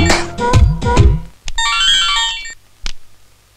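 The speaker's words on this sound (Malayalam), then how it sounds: "രാജു, കേൾക്കാൻ ഇമ്പമുള്ള എത്രയെത്ര കോളുകൾ ഇനി കേറി വരാൻ ഇരിക്കുന്നു." Mobile phone ringtone for an incoming call, a loud melodic electronic tune playing close up in short bursts with brief gaps between phrases.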